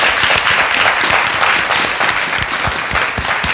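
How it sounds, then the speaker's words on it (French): An audience applauds Docteur Abdallah at a café-style public gathering, a loud, dense, continuous roar of many hands clapping with a few crisp individual claps standing out. "applaudissements encore plus forts que ça."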